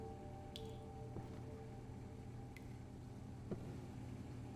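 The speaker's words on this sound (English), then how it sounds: "Do I hear dripping?" Water drips from a sink in the Crime Scene Cleaner video game, a few sparse, faint drops falling irregularly over a steady low ambient hum.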